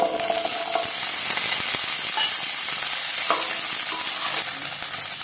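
Small onions frying in a pan of hot oil with cinnamon, cloves, cardamom and star anise, a steady loud sizzle with occasional stirring clinks, close up and without talk.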